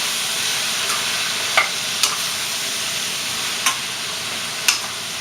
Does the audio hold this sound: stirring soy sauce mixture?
yes